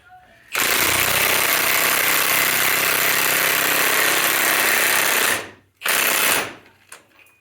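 A 1/2-inch cordless impact wrench hammers on wheel studs of an Exotruck, a loud close continuous rattling burst of about five seconds, then a brief second burst and a short blip.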